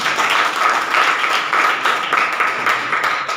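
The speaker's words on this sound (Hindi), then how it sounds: "एक बार जोरदार हो जाए पैसे के लिए ताली बजाएं।" A seminar audience in Agar, Madhya Pradesh, claps steadily and loudly, a dense continuous round of applause from many hands throughout.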